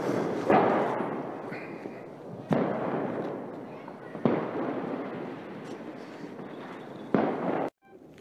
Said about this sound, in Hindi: अब पटाखे जला लिए हैं